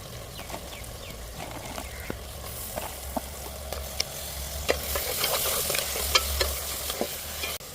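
Stone crab sizzles and spatters in hot oil, with scattered crackling pops and occasional stirring scrapes, close and continuous throughout.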